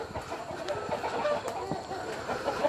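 Local breed chickens at a poultry farm give a run of close, overlapping clucks and short squawks amid barnyard background noise.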